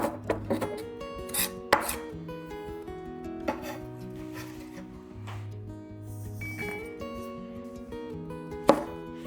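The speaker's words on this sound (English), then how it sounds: "Cut into minced garlic." A knife chops garlic on a cutting board while mincing it for a Chinese pork and mushroom stir-fry, with sharp irregular taps and quicker bursts of rapid strikes, close and clear with no talking.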